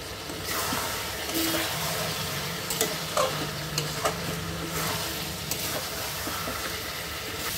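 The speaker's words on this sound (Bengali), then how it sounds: "হলুদ গুঁড়ো, লঙ্কার গুঁড়ো আর গুঁড়ো মশলা দিয়ে আরও 5 মিনিটের মতো কষিয়ে নেব।" Mutton korma being sautéed with turmeric, chilli powder and ground spices in a pan, giving a steady close sizzle with scattered scraping stirs and small clinks throughout, no voices.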